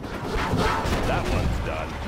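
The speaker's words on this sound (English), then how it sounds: "Bombardment." Artillery bombardment in C&C Generals Zero Hour, a dense continuous rumble of distant explosions and blasts layered over game unit voice lines.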